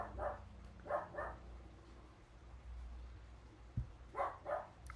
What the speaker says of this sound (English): Everybody's barking.